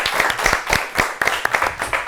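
Applause for a contestant on an Ethiopian children's quiz show, a group clapping in quick uneven bursts, fairly loud and close, lasting a couple of seconds.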